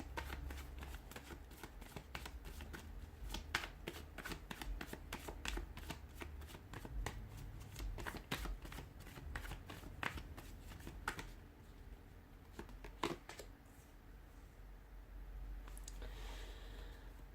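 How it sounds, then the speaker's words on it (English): Tarot cards riffled and shuffled close by in steady, rapid bursts, a soft papery flutter that pauses briefly near the end before resuming. "give the cards a shuffle"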